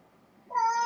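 A house cat lets out a single clear, drawn-out meow close by, rising suddenly out of near silence and holding steady to the end.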